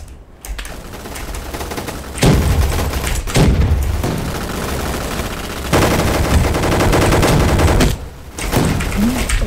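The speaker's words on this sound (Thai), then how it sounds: "นี่ผมจะยิงดักไว้ก่อนอย่างนี้ครับ" Rapid bursts of gunfire in Roblox Gunfight Arena, loud automatic volleys separated by short pauses, with booming impacts mixed in.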